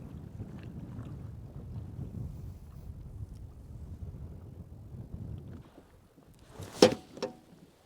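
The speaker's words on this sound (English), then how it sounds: "this wind's got me chilled" Wind buffets a fishing boat on open water during a cold front, a steady rough rush of wind noise on the microphone that drops away and ends in a couple of sharp thumps.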